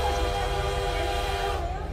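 A steady rumbling, droning train-like noise from the monstrous spider-train Choo Choo Charles in a horror video game, holding loud and continuous with tonal bands throughout, fading slightly at the end.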